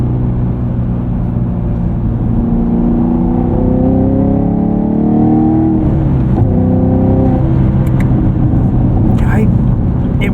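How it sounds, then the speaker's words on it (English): Camaro SS 1LE with LT1 V8 engine rev matching during a downshift: a loud steady drone rises in pitch and then drops, close up under continuous talking. "Let's try rev matching."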